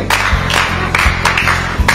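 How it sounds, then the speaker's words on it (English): Applause in a classroom quiz session, loud and close, with several bursts of clapping in a loose rhythm and crowd noise between them. "Good, clap for him."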